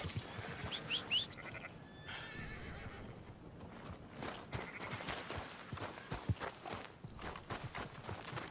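Sheep bleating in the Red Dead Redemption 2 video game on a ranch, several short bleats and whinny-like calls mixed with hoof clops and footsteps, fairly faint against outdoor game ambience.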